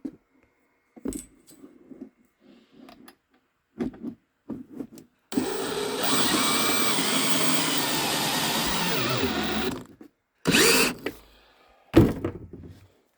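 A power drill drives screws to mount a Vevor 12-volt diesel heater, one steady whirring run of about four seconds set between scattered knocks and clunks of handling, with a short further burst of drilling afterward.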